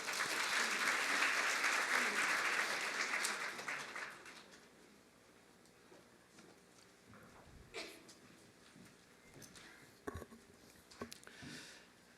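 Audience applause welcoming a speaker at a 2012 university student manifesto reporters' launch ceremony, a loud burst of clapping for about four seconds that fades out, followed by quiet room noise with scattered faint sounds.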